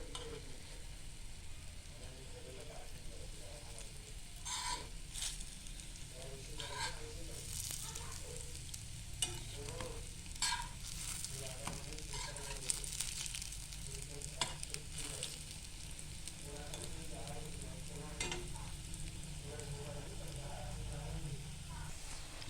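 Beetroot cutlets fry in a pan over very low gas, giving a soft, continuous sizzle with scattered light clicks and pops of a turner, fairly quiet and close, while a voice talks intermittently over the cooking.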